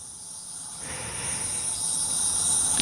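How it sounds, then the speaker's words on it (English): A 10th Doctor sonic screwdriver toy gives off a steady, very high-pitched electronic whine over a low hiss, continuing unbroken throughout and growing slightly louder toward the end. "The first being a very high-pitched sonic buzz"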